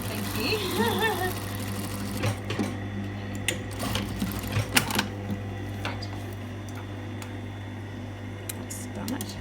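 A sewing machine runs in short bursts while stitching a quarter-inch seam on a jetted pocket, its motor whirring softly under a steady background hum, with a voice talking partway through.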